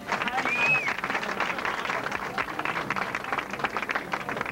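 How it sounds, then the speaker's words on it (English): A crowd at a restaurant grand opening celebration for an Applebee's gives a steady round of applause, a dense patter of clapping of moderate loudness with voices mixed in. "I want to give a hand of applause to Libby."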